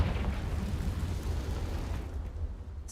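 A Confringo fire spell explodes in Hogwarts Legacy, producing a dense, sustained roar of booming rumble that rolls on steadily for about three seconds, loud and close, with a slight easing toward the end.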